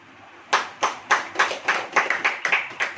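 A church congregation claps in unison during a sermon, about ten sharp, evenly spaced claps in a steady rhythm, close and clear with no talking.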